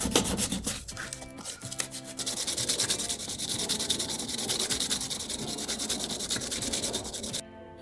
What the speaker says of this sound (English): just got done doing all the sanding